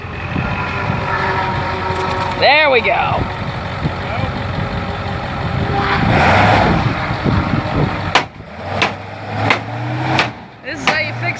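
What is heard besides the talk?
truck engine running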